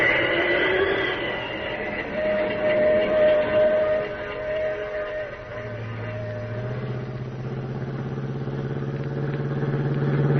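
A Pacific Flyer train runs as a radio drama sound effect, with a steady rumbling roll, a whistle-like tone near the start and a deepening low drone toward the end.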